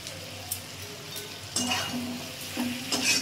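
Banana flower and grated coconut being stirred and sautéed in a pan, with a soft steady sizzle and intermittent scraping strokes of the spatula close by.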